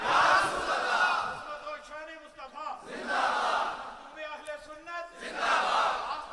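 A crowd at a religious gathering chants slogans in loud unison, three big collective shouts with a leader's voice calling out between them.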